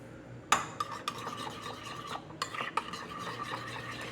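Chicken pieces stirred together with Old Bay seasoning in a metal bowl, a spoon scraping and clinking against the side in an uneven rhythm of strokes, close and steady with no voices.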